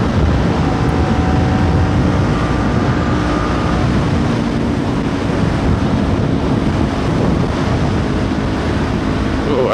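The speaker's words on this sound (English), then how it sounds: "Oh, and it's windy." Heavy wind roars across the microphone while riding a motorcycle, a loud continuous rush that covers the whole stretch with no clear speech.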